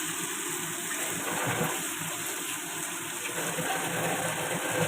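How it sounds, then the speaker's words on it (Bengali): A small splash of water poured into a pan of vegetables being sautéed with cumin powder, salt, sugar and turmeric, giving a steady broad gushing hiss that runs unbroken and fairly close throughout. "সামান্য একটু জল দিয়ে দিলাম"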